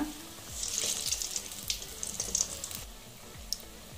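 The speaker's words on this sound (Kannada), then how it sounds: "ಹುರಿನ ಮೀಡಿಯಮ್ ಸೈಜ್ನಲ್ಲಿ ಇಟ್ಕೊಂಡು ನೀವು ಡೀಪ್ ಫ್ರೈ ಮಾಡ್ಕೊಳ್ಳಿ" Aloo bonda, potato-stuffed fritters, deep frying in hot oil, giving a steady soft sizzle with scattered crackles and pops, a few sharper spikes near the end, and no talking.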